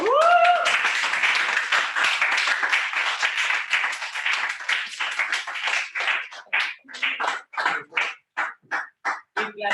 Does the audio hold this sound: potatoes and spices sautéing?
no